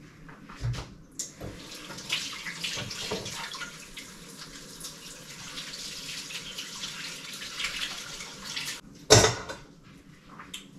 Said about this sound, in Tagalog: Wait, maghugas muna ako ng kamay.